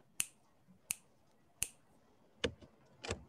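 Five sharp finger snaps recorded alone, spaced unevenly across about three seconds, each a crisp, close click over quiet background.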